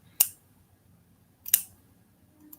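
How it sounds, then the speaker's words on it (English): Two sharp scissor snips cut through the woven backing of fur fabric, each a crisp isolated click-and-slice, with a fainter third snip near the end over a quiet room. "And just snip down along."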